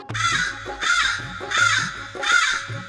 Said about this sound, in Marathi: एक होता काऊ कावळा त्याचं नाव फांदीवर बसून सारखी करी काव काव